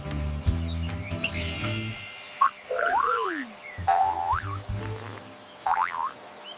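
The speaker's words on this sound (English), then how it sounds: "It's a frog." A frog call from an animal sound sequence: low pulsed croaks in the opening seconds, then a run of higher warbling, boinging calls, fairly close and loud with no talking.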